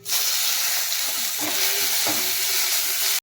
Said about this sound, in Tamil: நல்லா வறுத்துக்கணும் கலர் சேஞ்ச் ஆகிற அளவுக்கு தேங்காய் கருவேப்பிலை மல்லித்தலை புதினா இலை